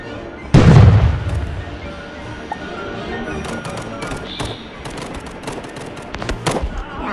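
A firecracker bomb goes off with one loud, close boom, followed by a rumbling tail and scattered crackles and pops, with some distant voices in the background.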